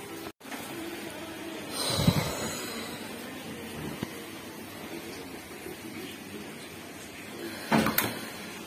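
Tight lids on home-cooked food containers are pried open, with a couple of short scraping, plasticky pops against a steady background hiss, one near the start and another near the end.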